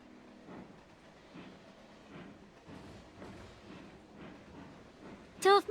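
A train in Railroads Online rolls along with low rumbling and faint rhythmic clatter, and a sharp whistle-like squeal breaks in near the end.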